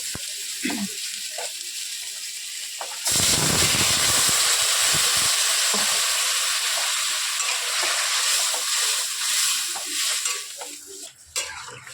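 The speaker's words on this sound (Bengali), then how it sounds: "এবার পরিমাণ মতো জল দিয়ে দেব" Water poured into sizzling spice masala with potatoes and ol stalks, a sudden loud burst of hissing steam and bubbling that stays strong, with stirring clatter near the end.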